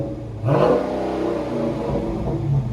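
A 2018 Dodge Charger 392 Scat Pack with a 6.4L HEMI V8 and dual exhaust, mufflers still on, revs up abruptly to about 4,000 RPM and holds a loud, deep, rumbling drone close by.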